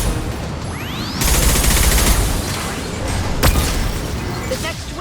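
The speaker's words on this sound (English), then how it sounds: "Watch out, flashbang!" Mass Effect 2 combat with a flashbang grenade and gunfire: a sharp burst followed by sustained noisy crackle of shots and blasts over an ambient bed, with a voice speaking.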